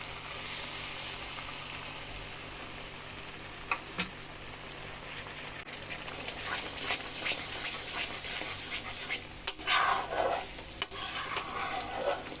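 Whisked sour yogurt being stirred into spices frying in oil for a fish curry, a soft continuous sizzle with occasional spoon knocks against the pan, growing busier and louder toward the end; no voices.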